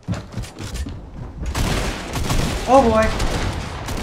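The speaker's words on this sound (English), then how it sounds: "There are shots all over the place" Gunfire in the Fortnite Battle Royale game, Season 9, rattling in bursts of shots that grow denser and louder midway, with a player talking over the fight.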